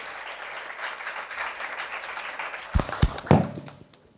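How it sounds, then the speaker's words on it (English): An audience in a hall applauds at a science event, a steady patter of clapping followed near the end by several sharp, close thumps or knocks. "So give a round of applause to our alumni scientists also"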